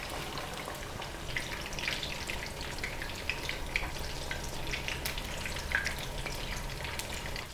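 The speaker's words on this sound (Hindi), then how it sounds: "अब हम इसको डीप फ्राई कर लेंगे।" Marinated fish deep frying in hot oil gives a steady, fairly soft bubbling sizzle flecked with small crackles throughout, with no one speaking.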